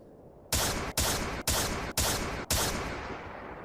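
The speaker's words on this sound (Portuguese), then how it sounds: "E agora, Adelaide, você começa a escutar aqueles disparos." Five rapid gunshot bursts in a dramatized Attack on Titan battle scene, each a loud, sharp crack followed by a short decaying tail, fired in a steady rhythm about half a second apart with no talking.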